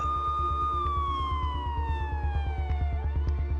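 A police siren wails with a slowly falling pitch over a rapid, rhythmic mechanical pulsing, loud and close.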